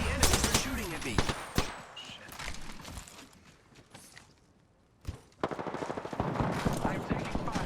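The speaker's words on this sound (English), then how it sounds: "The enemies are shooting at me." Rapid gunfire in an online battle royale shooter game, heard in loud bursts at the start and again near the end, with a quieter lull between, under a voice speaking in between.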